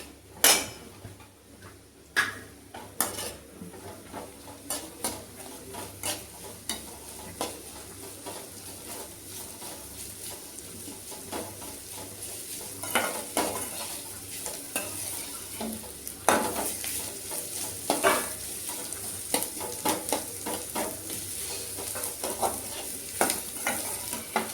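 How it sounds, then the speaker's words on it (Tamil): Onions sizzle steadily in a frying pan for a bitter gourd stir-fry, with a utensil scraping and stirring in irregular bursts and occasional metallic clinks against the pan, close and continuous throughout. "இப்போ இதில் நம்ம வெங்காயத்தை சேர்த்துடலாம்."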